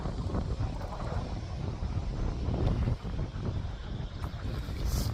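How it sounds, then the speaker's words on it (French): Steady wind buffets the microphone in continuous low rumbling gusts, loud and close, with no voices. "il y a un petit peu de vent"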